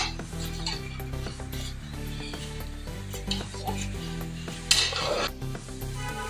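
Mixed vegetable and chicken curry being stirred in a pan with a metal utensil, repeated scraping and clinking strokes over a soft sizzle, with one louder clatter near the end.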